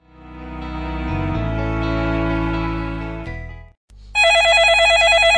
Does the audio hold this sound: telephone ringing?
yes